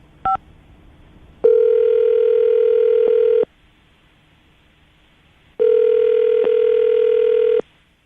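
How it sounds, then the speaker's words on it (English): A telephone call being placed: a short dial blip, then two long, steady electronic ringback tones separated by silence, clear and close with no voices. "I'm going to dial the phone number right now"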